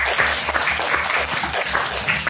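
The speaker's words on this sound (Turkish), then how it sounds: "Alkış çocuklar" Children clapping together in a rhythmic, evenly paced burst at the Müjdat Gezen Sanat Merkezi, close and lively, ending abruptly.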